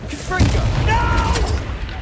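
A Confringo fire-blast spell goes off in Hogwarts Legacy as a short, heavy boom and crackle. It is close and loud and mixes with a character's voiced exclamations and game sounds.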